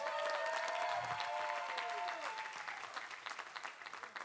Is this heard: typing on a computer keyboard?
no